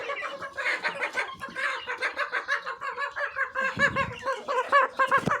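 A group of hens and chicks clucks constantly in quick, overlapping bursts, close and lively with a bouncing rhythm throughout.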